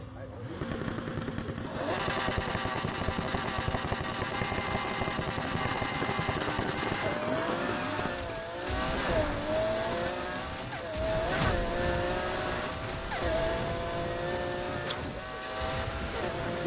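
A McLaren F1 engine racing in Need for Speed Heat, revving hard with sweeping pitch changes and shifting gears, loud and continuous under game music and effects, with a voice talking at times.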